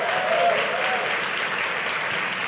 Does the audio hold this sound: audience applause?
yes